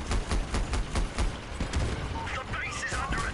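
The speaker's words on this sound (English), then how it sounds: "Ow, I just got hit with a cannon." Cannon fire and gunfire crash around a player's vehicle during a Crossout battle, a dense run of sharp bangs and booming impacts, loud and continuous through the clip.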